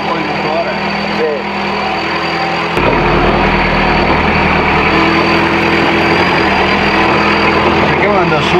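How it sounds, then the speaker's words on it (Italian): Suzuki Samurai off-road prototype engine idling, a steady loud rumble that holds throughout and steps up slightly partway through, close to the vehicle. "sentiamo un po' il motore"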